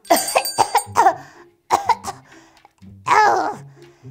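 A voice acting out a cold in play, giving a string of several sharp, close coughs in quick bursts, then a pause, then a longer harsh cough.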